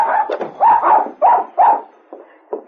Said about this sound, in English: Dave rushed into the store excitedly with his dog barking at his heels